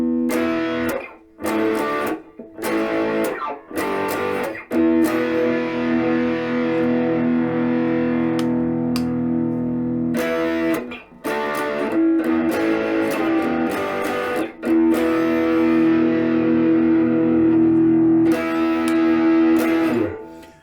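Batking ELP-01 electric guitar with distortion, split bridge humbucker, plays sustained, gritty chords and notes, loud and saturated, with brief pauses between phrases early on.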